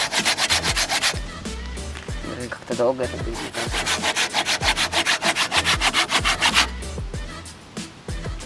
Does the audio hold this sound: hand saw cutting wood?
yes